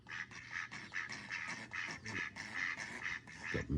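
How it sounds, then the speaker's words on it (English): A duck quacks repeatedly in a garden under a palm tree, a steady run of nasal calls at moderate distance with no talking. "My little duck sat underneath the palm tree."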